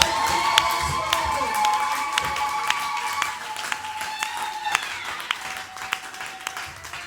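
A church congregation cheers and applauds, with scattered sharp claps, shouts and whistle-like cries ringing out over a lively crowd murmur.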